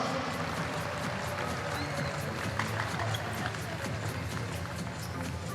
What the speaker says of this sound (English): let's give a round of applause for the legendary elite